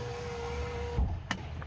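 A Tata Punch rear power window motor hums steadily up close, then stops with a short clunk and a brief click, in a parked car without talk.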